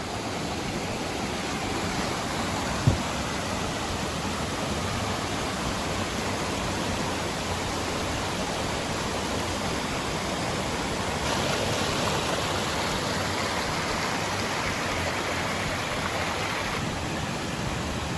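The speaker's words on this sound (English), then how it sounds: "This one is a pretty small waterfall in comparison to some of the others that I've seen." A small waterfall, Sarah's Creek Falls in Clayton, Georgia, pours steadily, a constant rushing hiss of water heard up close with no voices.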